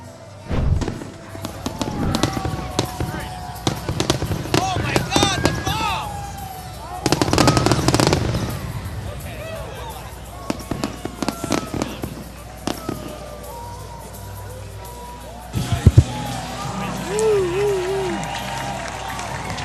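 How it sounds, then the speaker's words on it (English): A post-game fireworks show bursts over Campanelli Stadium after a 2014 FCBL All Star baseball game, with booms, crackling rapid volleys and thuds, while a crowd cheers, applauds and talks and whistles rise between explosions. "the post-game fireworks show going off"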